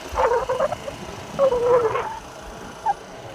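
A dog wearing shoes, outdoors near fish ponds, gives short whimpering yips and whines in two brief clusters and then a single faint yelp, at moderate distance.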